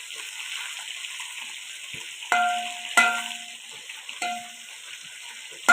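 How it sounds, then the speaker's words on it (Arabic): Meat hits hot fat and corn oil in a pan, giving a steady loud sizzle with several sharper spitting bursts and pops over it, no voices. "شلوحها كده بالدهنة وبزيت بالذرة"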